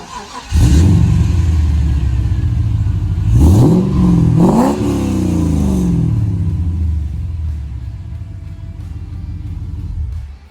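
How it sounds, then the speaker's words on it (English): A HSV VT R8 Clubsport V8 with a catback X4 exhaust starts and revs, giving a deep, loud burble with two sharp throttle blips that rise and fall before it settles into a steady idle rumble. "This is the best looking of all the exhaust systems and has a very nice note to it as well."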